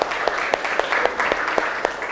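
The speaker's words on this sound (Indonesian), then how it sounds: "Oke, ya kasih tepuk tangan untuk kelompok" Students in a classroom give a short round of applause for the best group. The clapping is fairly faint, with about eight evenly spaced claps, as if only a few people are clapping.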